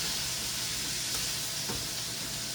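Bacon fries in a pan, a steady, dense sizzle and crackle of hot fat filling the whole stretch, close and even with no voices.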